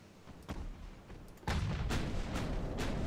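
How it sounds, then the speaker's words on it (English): Armor-piercing naval gunfire in Ultimate Admiral: Dreadnoughts: a few sharp, booming reports arrive at intervals, and a heavier sustained salvo rumbles from about midway on, loud and without talk. "We're going to fire armor piercing at her."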